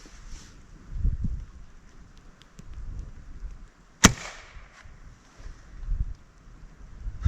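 A .22 pellet rifle fired into fiberboard: a single sharp, brief crack midway through, over light wind noise and faint background rumble.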